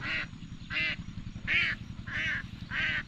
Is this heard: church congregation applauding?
no